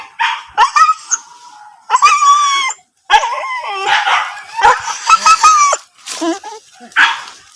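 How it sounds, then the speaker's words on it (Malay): A small dog barks in loud, close bursts, several sharp yaps and whiny yips separated by brief pauses, with no talking. "Anjing kecil."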